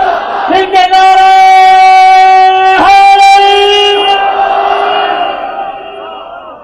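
A crowd at a Muharram majlis chants a slogan in unison, a loud sustained massed voice with a held, tonal quality that swells, briefly breaks and then fades out.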